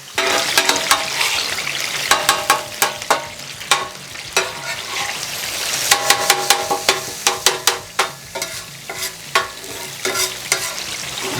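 A steak fries on a griddle in butter and Frank's buffalo sauce as a spatula scrapes and stirs it, making a steady sizzle broken by sharp, repeated metallic clicks and scrapes close by.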